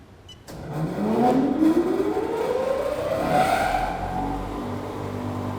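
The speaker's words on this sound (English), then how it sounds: "we just need to start the exhaust fan first, and then we start the heater" A spray dryer's exhaust fan spins up from silence with a steadily rising whine and airy whoosh, then settles into a continuous, moderately loud drone.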